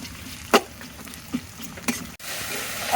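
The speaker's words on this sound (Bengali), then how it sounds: "এর সাথে আমি প্রায় মশলাগুলো করাই দিতে দিয়ে দিচ্ছি" Spices fry and get stirred in a pan during home cooking on a rainy day, a steady low sizzle broken by a few sharp scraping clinks of the utensil, with a louder hiss rising near the end.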